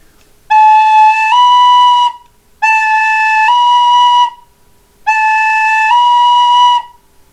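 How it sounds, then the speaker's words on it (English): A tin whistle plays three clear, loud phrases, each a held A stepping straight up to B, separated by short silences. "I'm just going to play A and then B with the increment that the tin whistle offers."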